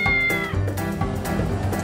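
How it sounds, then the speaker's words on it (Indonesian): A cat trapped inside a car's engine compartment meows loudly and insistently, several close, drawn-out plaintive cries in quick succession with no talk. "Awalnya kedengeran suara miau-miau terus dari mobil."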